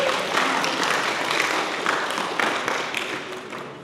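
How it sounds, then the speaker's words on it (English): Applause from a youth retreat audience at a Buddhist dharma talk, steady dense clapping filling the room throughout, loud and close with no break. "Please give yourself a round of applause."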